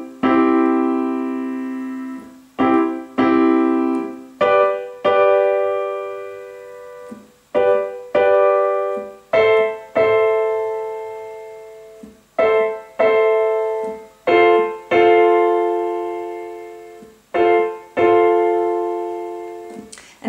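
A solo piano plays a simple beginner rhythm as separate chords, struck in short groups with brief pauses between them. It is clear and close, with no voice.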